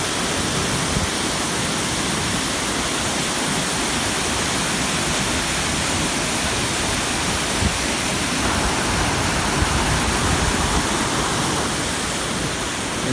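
Krupa waterfalls on the river Vrbas near Banja Luka, Bosnia and Herzegovina, a steady, loud broadband rush of falling water that holds constant throughout without pauses, no voices audible.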